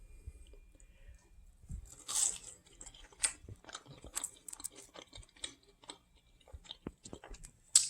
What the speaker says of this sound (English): eager to gnaw that one to the point where there isn't even any cartilage left